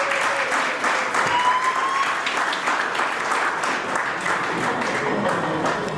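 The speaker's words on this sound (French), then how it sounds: "Est-ce qu'on peut acclamer pour Madame Gina?" A crowd at a 50th birthday celebration applauds for a guest, Madame Gina, with dense, even clapping that stays loud and sustained throughout.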